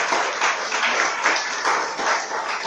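Church congregation applauding together at a Spanish-language service, a steady, dense wash of clapping from many hands with no talk over it.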